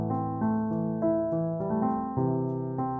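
A close grand piano voice plays a short passage of a song: a steady, legato melody of sustained notes and chords, moderately loud and continuous, with no voices.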